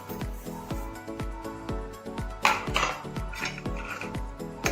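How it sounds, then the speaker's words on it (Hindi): Sweet sago kheer stirred with a spoon in a pot, a rapid run of close metallic clinks and scrapes against the pot, repeating roughly every few tenths of a second. "इसको अच्छे से मिक्स करेंगे।"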